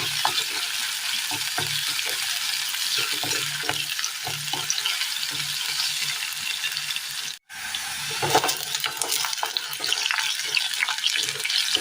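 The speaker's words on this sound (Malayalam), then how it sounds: "ഈ എണ്ണയിലിട്ട് ഇതൊന്ന് വാട്ടിയെടുക്കാം." Chopped elephant foot yam stems sauté in hot oil with a steady, close sizzle, broken by scraping stirs and a brief pause midway, with no talking.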